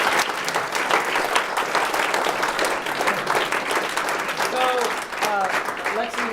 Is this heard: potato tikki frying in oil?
no